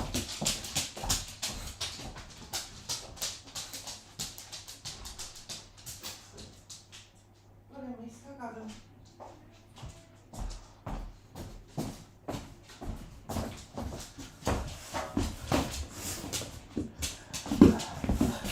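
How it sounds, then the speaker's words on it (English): An indoor dog whimpers and yips in short, soft bursts. A sharper whine rises near the middle, and scattered clatter and movement noises fill the rest. "before he starts barking, I'm going to let him out the back quickly."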